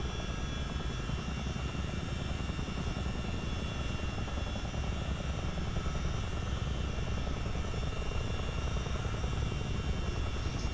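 A CH-47D Chinook twin-rotor helicopter in Microsoft Flight Simulator drones with a loud, constant rotor and engine roar, a dense, unchanging thrum filling the whole stretch with no voices.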